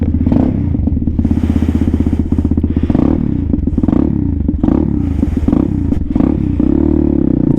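A Venom Thunder 125cc motorcycle idles just after a cold kick start without choke, a loud, close, rapid steady putter that swells and dips with a few throttle blips, and no talking.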